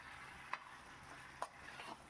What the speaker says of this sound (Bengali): আলু চিকেন মশলা যেন ভালোভাবে মিশে যায় সেইভাবে আমি একটু নাড়িয়ে চাড়িয়ে নিচ্ছি।